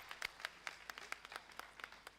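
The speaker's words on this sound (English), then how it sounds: "So please give applause for yourself." Scattered hand claps at a conference opening session, sparse and fairly faint, roughly ten distinct claps spaced irregularly in a quiet room.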